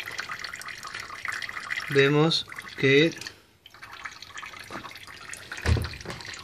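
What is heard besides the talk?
thin stream of water running from a tap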